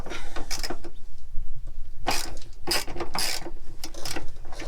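A ratchet clicks in short, uneven bursts while loosening 13mm bolts on a BMW F30 3 Series exhaust, close and fairly clear with no speech.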